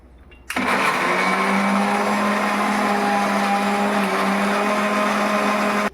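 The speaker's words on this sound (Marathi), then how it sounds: "हा मिक्सरमध्ये टाकला आहे केळा" A mixer grinder kicks in after a brief pause and runs loud and steady, its motor whirring and grinding banana into a paste without a break.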